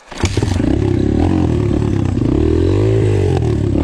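An Apollo Sano DMZ 250 dirt bike labours up a steep hill, its engine revving hard and close with a rising, wavering drone, along with brief clatter and scrape at the start.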